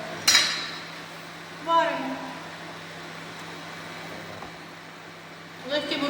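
A few distinct clinks and knocks of eggs set into a metal pot of boiling salted water, spaced apart, over a quiet background hum.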